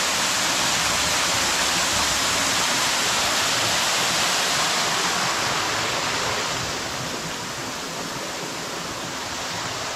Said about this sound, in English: See, the small waterfall.